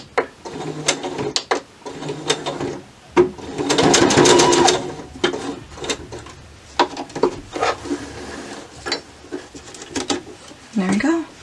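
A sewing machine stay stitching the hem of a ribbon skirt, running in short whirring bursts with one longer loud run in the middle, interspersed with clicks and fabric handling.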